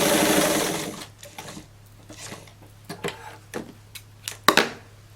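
A sewing machine stitches a blouse hem with a fast whirring run at first, then a string of short, sharp bursts and clicks as the fabric is fed and adjusted, close and alone.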